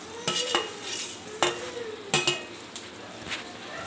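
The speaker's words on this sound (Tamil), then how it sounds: "குழம்பு நல்லா கொதிச்சிடுச்சு இப்போ நாம் வதக்கி வச்சுருக்கிற கத்திரிக்காயை போட்டுக்கலாம்" A spoon stirs and clanks against a pot as sautéed brinjal goes into a boiling village-style medicinal kuzhambu, with a few sharp metallic knocks over a soft bubbling sizzle.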